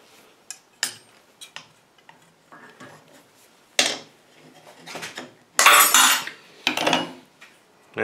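Wire being nipped off with cutters while making hardware from wire, heard as scattered metallic clicks and clinks with a couple of louder snips and handling noise, close by.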